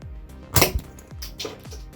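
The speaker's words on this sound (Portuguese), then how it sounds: "isso vai resultar num tiro" A Bottleman toy fitted with a Power Wing fires a bottle cap with a sharp snapping launch in the middle, followed by a few softer clicks and rattles nearby.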